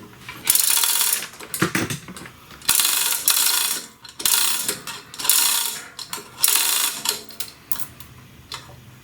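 Ratcheting wrench tightening 15 millimeter bolts during a 2011–2015 Chevy Cruze engine swap, with repeated bursts of close, bright clicking separated by short pauses, no talking.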